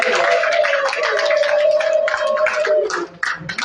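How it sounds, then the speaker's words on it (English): A conference crowd at Hotel Africana claps for a speaker, dense steady applause from a large audience that holds loud throughout while a single tone rings over it, fading slightly near the end. "Can you please give her a louder hand of applause?"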